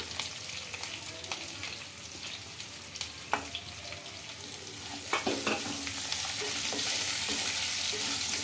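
Curry leaves, chopped onions and green chilli pieces fry in a pan with a steady close sizzle, occasional stirring clinks, and the hiss swelling slightly toward the end.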